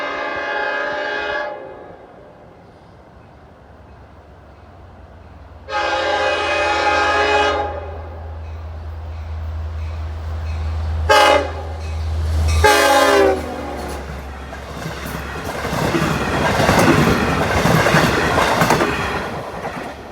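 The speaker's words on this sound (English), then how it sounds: "we get the next train, the Summer Extra," A Long Island Rail Road train bound for Patchogue passes through Oakdale: several loud horn blasts separated by pauses, then the steady roar and rattle of the cars rolling by close at hand, building toward the end.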